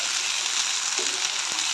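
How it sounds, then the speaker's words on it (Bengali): A paste of cabbage leaves and shrimp fries in mustard oil over low heat, giving a steady close sizzle and crackle with a faint stir or two, and no one speaking. "পেস্টটা আমি দিয়ে ভালো করে আরেকটু ফ্রাই করে নেব"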